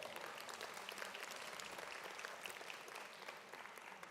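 A round of applause from the audience at the Martin and Coretta Scott King Memorial Breakfast, given for honored sponsors: continuous, fairly quiet clapping from a crowd in a large room, even and unbroken, with no talking on top.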